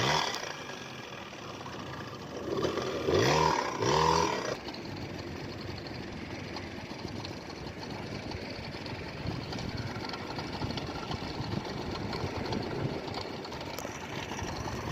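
A Yamaha QT50 moped engine runs steadily, a continuous mid-pitched drone with a louder rough burst early on, then settling into an even, unbroken hum throughout.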